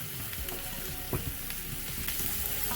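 Fresh ginger and spices fry in a pan for samosa filling, a steady close sizzle with light crackles and a few stirring scrapes throughout, no voices.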